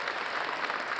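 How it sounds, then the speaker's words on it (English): An audience at an induction ceremony applauds a Scottish bagpiper, a brief, continuous patter of clapping heard in the room. "while you're applauding"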